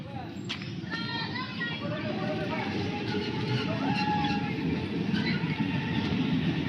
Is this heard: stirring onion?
no